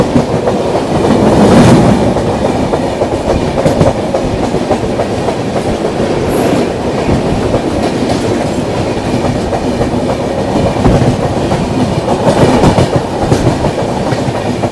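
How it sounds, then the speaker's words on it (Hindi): The Anand Vihar–Kamakhya North East Express rolls past, a loud steady rumble with rhythmic clickety-clack of wheels over rail joints throughout. "Anand Vihar Kamakhya north east express."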